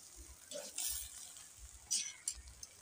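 Potatoes sautéing in a pan give faint, intermittent stirring scrapes and soft sizzling over a low background hum, with a few sharper clinks near the end.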